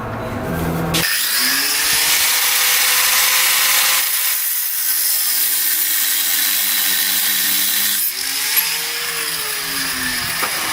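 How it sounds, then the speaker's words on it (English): A cutoff wheel cuts through metal while a budget lift kit is built. The grinding whine is loud and continuous, and its pitch dips under load at two points. "Now I'm going to cut that off with the cutoff wheel"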